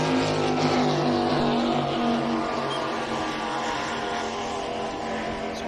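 A skater-hull offshore superboat races across Lake Macquarie in an Australian Offshore Superboat Championship round, its engines a loud sustained roar that slowly fades slightly, with no talking.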